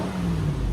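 A Lexus GX 470 with its 4.7L V8 and aftermarket exhaust idles steadily up close, a low, even rumble holding through the moment with no revving.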